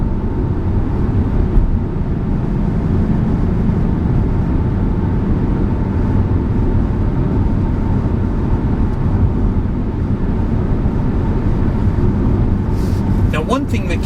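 A 2012 Ford Mustang GT 5.0 California Special cruises in sixth gear at about 50 mph, a steady, loud low drone of engine and road noise that holds unchanged throughout.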